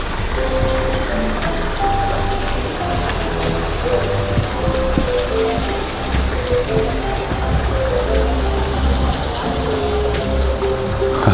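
Water gushing from waterfalls by a river, a dense, loud, continuous rush and splatter that holds steady throughout, with no talking.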